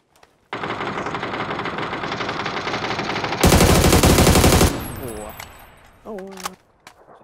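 Celebratory gunfire in PUBG: Battlegrounds: a loud, unbroken automatic burst that rattles on for about four seconds, swells even harder near the end, then cuts off into quieter clicks and a few scattered sounds.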